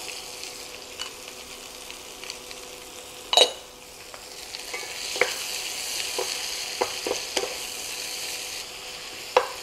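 Onions frying in a skillet as they brown, with a steady low sizzle, scattered stirring scrapes and a sharp clatter early on.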